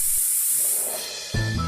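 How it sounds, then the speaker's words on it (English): A cartoon fire truck sprays water onto a fire with a loud, steady hiss that fades slightly, then a sharper burst of sound near the end. No one speaks. "Big Red uses all of his strength to spray water."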